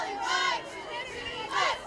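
Crowd at an early Thursday high school football game between Greeley West and Broomfield, a distant murmur of spectators with voices swelling into shouts twice, heard from across the field.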